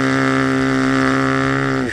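A voice imitates a rotary engine at idle with the mouth, producing a steady, loud buzzing drone for about two seconds that trails off at the end.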